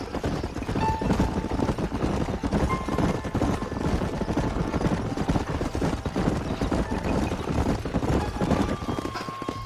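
Horses ridden in the video game Red Dead Redemption clip-clop in a continuous rapid rhythm of hooves, steady and fairly loud throughout with a dense background rumble.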